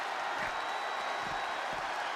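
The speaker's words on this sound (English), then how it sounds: "This crowd is thunderous right now." A loud wrestling arena crowd roars in a steady, dense wash of cheering and noise during a WWE Batista versus The Rock ambulance match, with no breaks.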